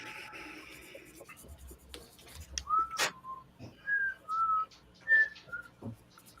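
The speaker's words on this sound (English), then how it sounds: "Francisco's whistling our theme song." A person whistles a short theme-song melody in a series of clear, tuneful notes, some held and some short, after a stretch of soft background noise and a brief scratchy sound.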